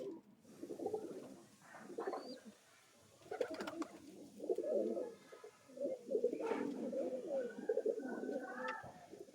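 Young three-feather pigeon chicks of a trained flock cooing nearby, repeated low, burbling coos coming in overlapping bursts with brief pauses, fairly soft and unaccompanied.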